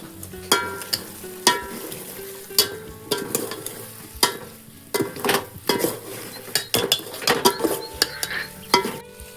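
Soybeans and softened onions get stirred in a metal cooking pot, a spoon scraping and clanking against the sides in irregular strokes over a soft sizzle, close and fairly loud.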